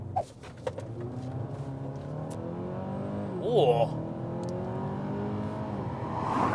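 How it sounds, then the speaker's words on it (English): A 2024 Hyundai Sonata N-Line engine revs up through its gears, the sports exhaust growling louder as it accelerates, while a voice speaks briefly over it. "I think this thing has like a sports exhaust. It sounds delicious."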